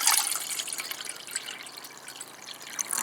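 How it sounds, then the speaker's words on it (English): About eight ounces of water poured into the pot of a Sterno Inferno camp stove, a soft close splashing trickle that eases off midway and picks up again at the end. "And then we'll add 8 ounces of water."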